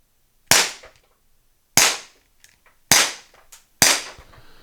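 An Umarex T4E HDP compact .50 caliber PepperBall launcher fires four sharp, loud shots, evenly spaced about a second apart, each with a quick decay and silence between.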